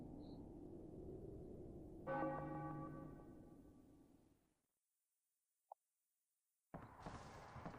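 Church bells ring in the video game Final Fantasy IX, with a single resonant bell strike fading out, then near silence before ambient game sound returns.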